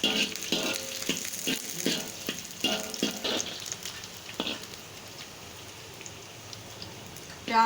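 Onions sizzling and crackling in about half a cup of hot oil in a pan, with bursts of spattering in the first few seconds that settle into a steady, quieter fry.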